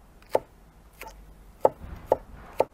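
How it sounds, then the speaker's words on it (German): A knife chops a peeled vegetable into thin rings on a cutting board. Five crisp, close chops come at uneven intervals with quiet pauses between them. "Und schneiden uns kleine Ringe runter. Versucht die Ringe gleich dick zu schneiden."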